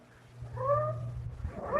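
A cat meows in a radio drama scene, two drawn-out, rising-and-falling mews close by, the second starting just as the first fades, over a low background hum.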